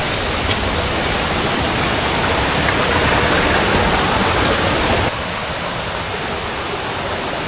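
A jungle river rushes steadily below a trekking trail, a dense, continuous hiss of flowing water, loud and close, with no voices.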